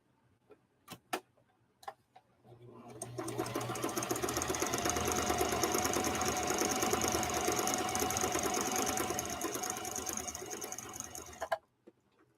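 A sewing machine stitches a test seam while thread tension is being balanced. A few light clicks come first, then a steady, close, rapid mechanical whirr runs for about nine seconds before it stops.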